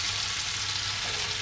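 Ginger and garlic paste with spices sizzling in a pan for butter chicken, a steady, close, hissing fry with no talk over it.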